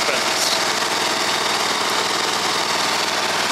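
A Husqvarna riding mower runs with its mower deck engaged, giving a loud, steady engine drone and rattle close by.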